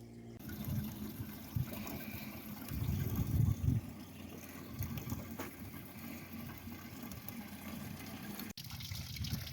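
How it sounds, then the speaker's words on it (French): Water runs from a village fountain in Comares, an Andalusian white village, as a quiet continuous splashing and trickling with a fuller, louder gush for a few seconds near the start, heard close with no voices. "j'ai trouvé une fontaine"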